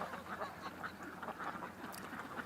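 Ducks quack in a busy, overlapping chorus as they leave the water at dusk, faint and slightly distant, with geese nearby.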